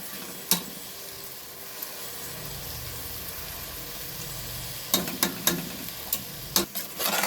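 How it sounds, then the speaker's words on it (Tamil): Soaked raw rice sautéing with tomato masala in a pan for tomato rice gives a soft continuous sizzle, broken by a few sharp clicks of a spoon against the pan, mostly toward the end. "அரிசியும் இது எல்லாத்தையும் சேர்த்து ஒன்றா நல்லா வதக்கிக்கணும்"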